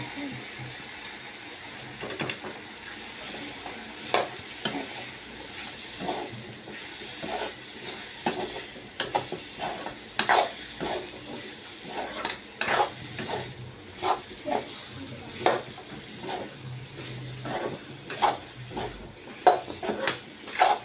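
Onion and drumstick pieces stir-fried in a pan for a Tamil drumstick poriyal, with repeated scraping and clinking of a ladle against the pan over a low, steady sizzle.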